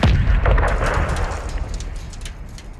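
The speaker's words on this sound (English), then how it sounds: "Who's shooting fucking missiles at me" Missile explosions in the Call of Duty MW2 campaign over a soccer field: a loud, close, rumbling blast with deep low end and scattered crackling debris, slowly fading across the moment.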